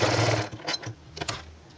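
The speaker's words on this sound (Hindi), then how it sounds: "अब हम यहीं से इस पर यहाँ पर भी सिलाई लगा लेंगे" A sewing machine stitches a women's shirt collar: a brief close run of fast mechanical whirring, then a few short stop-start bursts.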